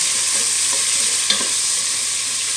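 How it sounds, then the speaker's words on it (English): Lasagne sauce sizzling in a pan, a steady, loud frying hiss with faint stirring clicks and one small knock, continuous and close with no talking. "let that sizzle away"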